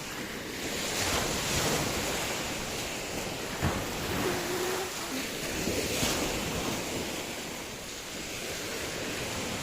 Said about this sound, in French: Il y a des vagues, mais comme tous les jours, quoi.